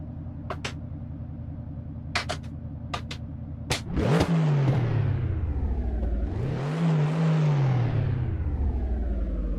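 A car engine revs in the Assetto Corsa racing game on a canyon drive, with a few clicks and then two long rising and falling revs that build to a loud, steady drone, close and with no talk.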